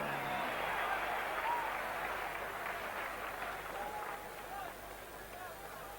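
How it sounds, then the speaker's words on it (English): Crowd applause and cheering for a boxer introduced at a 2016 boxing fight in an arena, a steady far-off wash of clapping under an announcer's voice, slowly fading. "A round of applause, please, for John Michael Johnson."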